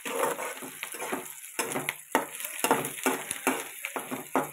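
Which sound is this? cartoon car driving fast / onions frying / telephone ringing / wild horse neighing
onions frying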